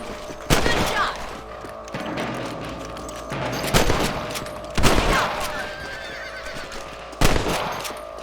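Gunfire from the video game Red Dead Redemption: four sharp, loud shots spaced a second or more apart, each with a short echoing tail, over a steady background of outdoor ambience with faint horse sounds.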